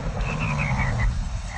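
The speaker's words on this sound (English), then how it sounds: "Hello, frogs." Cartoon frogs croaking in the Sago Mini Forest Flyer kids' app game, a rhythmic run of short repeated croaks over a low background tone, with no talking.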